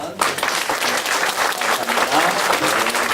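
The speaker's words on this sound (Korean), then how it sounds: "박수 한번." Church congregation applauding after a closing prayer at a winter Bible school gathering, a dense sustained clapping from a sizable crowd that starts abruptly and continues steadily throughout.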